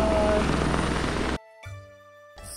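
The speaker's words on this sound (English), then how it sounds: "Oh, the helicopter is leaving" Helicopter leaving Lantau Island near the Big Buddha, a loud close rotor and engine roar that cuts off abruptly, followed by quieter tonal hum.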